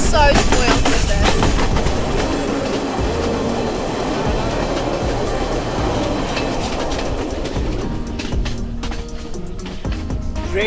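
A Blue Train rolling on rails from Kandy to Ella in Sri Lanka gives a steady, loud rumble with clattering wheels throughout, easing slightly near the end as faint voices surface in the background.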